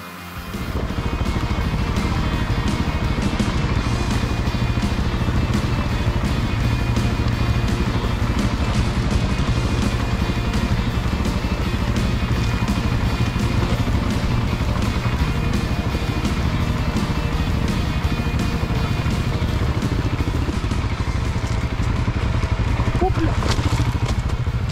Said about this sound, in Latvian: There would be two more motorbikes.